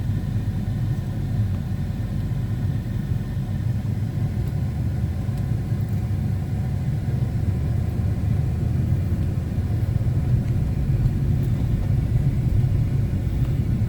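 A 1991 Cadillac Sedan Deville pulls away from a traffic light, its engine a low steady rumble heard from inside the car, rising slightly toward the end with no one speaking.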